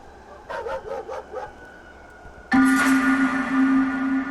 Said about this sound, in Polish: Jakieś śmieszne pieski.